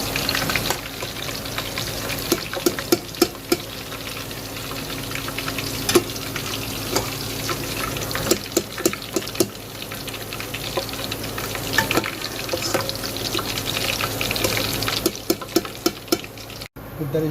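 Bitter gourd frying in hot oil, a steady dense sizzle with scattered sharp crackles and pops, close and continuous, with faint kitchen clatter.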